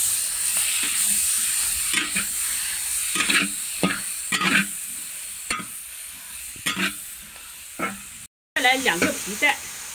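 Chili peppers with dark soy sauce are stir-fried with meat in a wok, giving a steady sizzle broken by repeated scraping strokes of the spatula. A brief gap near the end is followed by louder crackling.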